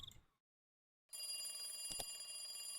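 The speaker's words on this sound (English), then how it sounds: "Suddenly, the phone rang." A telephone rings indoors late at night in a steady, sustained electronic ring that starts after a short silence and carries on at moderate volume. A brief sharp accent sits in the middle, with no voices.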